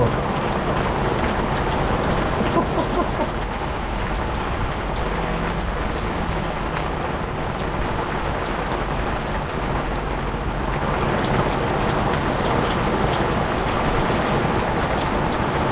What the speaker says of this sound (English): I think that's the heaviest rain I've ever seen